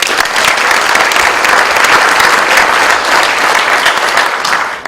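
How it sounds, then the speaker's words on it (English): An audience applauds the sales and pre-sales teams at a 2013 corporate business review, with steady, dense clapping lasting about five seconds before tapering at the end. "I want a round of applause for all of them."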